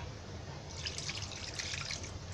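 Pomfret fish washed under water, with a soft continuous splashing and trickling of water, faint and close, with no talking.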